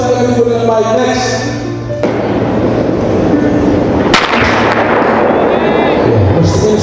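A starting pistol fires once with a sharp crack, heard outdoors during a high school orientation event, followed by a lingering rumbling echo.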